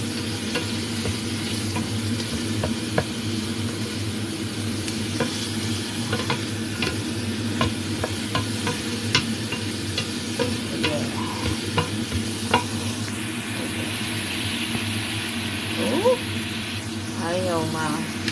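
Vegetables sautéing in butter in a pan with steady stirring and scraping over a continuous sizzle, close and fairly loud, as a beef pasta dish is prepared.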